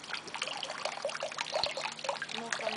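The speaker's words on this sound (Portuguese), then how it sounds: "O gato da vizinha que bebe água na torneira" A thin stream of water trickles steadily from a tap while a cat drinks from it, a soft continuous dribble with small splashes, close and fairly quiet.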